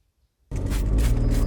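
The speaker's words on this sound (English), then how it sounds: "That sound you're hearing is Sonia spraying herself with water to cool herself down" Silence breaks into a sudden, loud hissing burst as someone outdoors on a hot day sprays themselves with water to cool off, the spray continuing steadily to the end.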